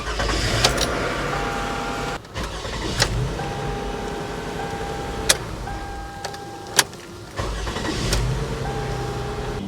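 With a newly fitted starter, a Toyota Sienna's 3.5L V6 cranks and starts among clicks and clunks of the key and cabin. The engine then runs at a steady, close idle.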